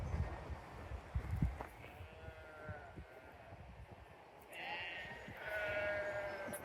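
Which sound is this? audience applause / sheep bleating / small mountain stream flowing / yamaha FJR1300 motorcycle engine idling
sheep bleating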